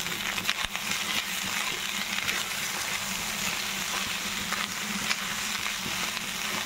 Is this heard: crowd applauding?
no